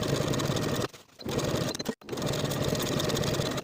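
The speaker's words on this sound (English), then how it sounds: "Sew from the top to the bottom of the pocket with a 1/2 inch seam allowance" A sewing machine stitches the side seam of an in-seam pocket on palazzo pants, running loud and close in steady runs with a short slowdown and a brief stop partway through.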